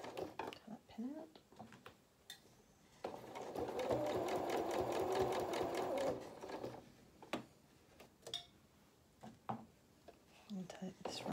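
A domestic sewing machine stitches a seam in fabric for a small stuffed cat's head, running steadily for about three seconds with a fast mechanical whir, framed by quiet handling clicks and soft speech.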